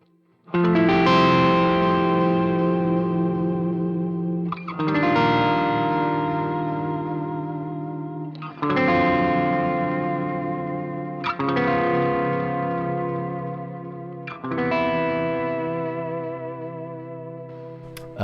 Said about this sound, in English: Vibrato rate.